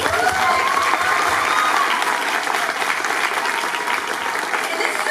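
Convention hall audience at a Comic-Con wrestling toy panel bursts into loud, sustained applause, a thick wash of clapping with scattered cheers throughout.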